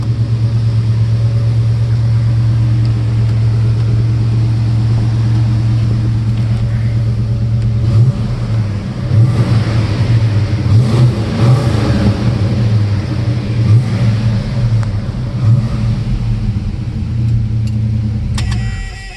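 A 1970 Plymouth Duster 340 V8 idles with a steady, loud low rumble, then gets revved several times in the second half with rising, surging engine bursts before settling back to idle.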